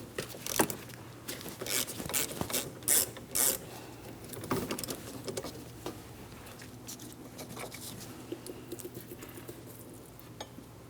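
Ratchet wrench turning an 11mm banjo bolt out of a rear brake caliper on a 2003-2007 Cadillac CTS, rapid close clicking bursts in several short runs, followed by quieter handling noise.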